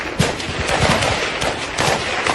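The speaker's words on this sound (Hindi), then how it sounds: "पाक अफगान बॉर्डर पर भीषण फायरिंग" Heavy gunfire at the Pakistan-Afghan border in Khyber Pakhtunkhwa, a dense continuous barrage of rapid overlapping shots and bursts, loud and unbroken with no talk.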